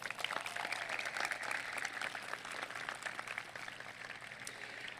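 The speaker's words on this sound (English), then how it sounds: "Let's give her another round of applause." A crowd applauds steadily at an outdoor high school graduation ceremony in a stadium, a dense, distant patter of clapping heard with no talking.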